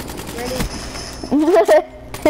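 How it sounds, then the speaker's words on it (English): Minigun firing in the Call of Duty: Black Ops III video game, a loud burst of rapid gunfire under excited voices talking over it. "Oh, I got the minigun."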